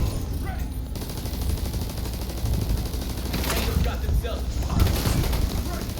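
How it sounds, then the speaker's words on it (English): Repeated gunfire in The Division 2 cracks in bursts over a dense, steady layer of game noise, with several sharper shots standing out near the end. "I was shooting at the decoy."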